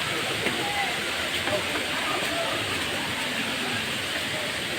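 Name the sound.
Bulawan Falls waterfall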